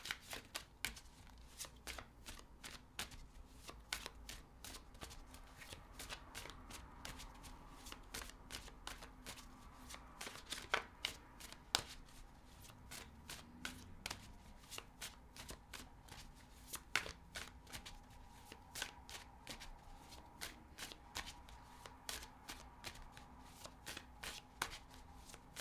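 Tarot cards being shuffled by hand, a long run of quick, soft riffling and tapping clicks in an irregular rhythm, fairly quiet and close.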